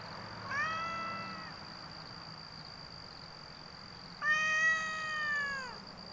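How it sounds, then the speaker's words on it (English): Barn cats meowing twice, with one drawn-out, fairly faint meow followed a few seconds later by a second, louder one, set against a steady high electrical whine and quiet background. "So these are my barn cats that are actually inside outside."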